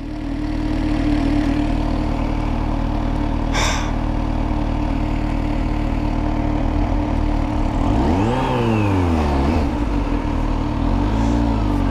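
A supercharged Kawasaki Z H2 motorcycle with an Akrapovic exhaust idles loudly and steadily, then revs up and back down in a deep sweep and settles into a rough idle again.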